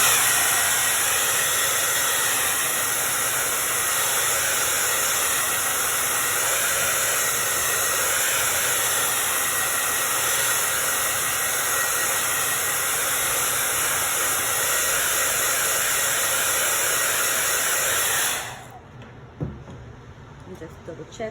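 A hair dryer blows steadily on a fresh coat of pale paint, a loud, even whooshing hiss that runs for a long stretch before switching off abruptly near the end.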